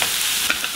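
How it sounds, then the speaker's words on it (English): Garlic sizzles and hisses in a hot pan while being stirred, a brief, close, steady frying sound with no speech. "Okay, from here, I'm gonna add my garlic. Okay, this is gonna give this a stir."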